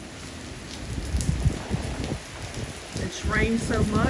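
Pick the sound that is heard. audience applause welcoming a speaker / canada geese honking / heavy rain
heavy rain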